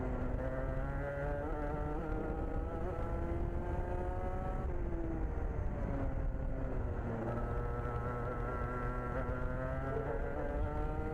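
A 2-stroke racing kart engine on a damp track at Salbris drones steadily and near, its pitch rising and falling as the driver lifts and reaccelerates through corners.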